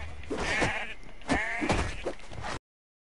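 A sheep in Assassin's Creed Valhalla bleats in a few loud, wavering calls amid in-game thumps, then the sound cuts off abruptly.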